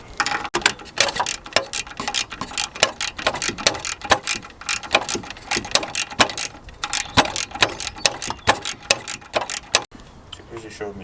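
Rapid mechanical ratchet clicks from a socket wrench cracking off 10mm bolts on a Ford Fiesta 1.0-litre EcoBoost engine, in dense bursts of ticking that carry on through most of the stretch with brief pauses.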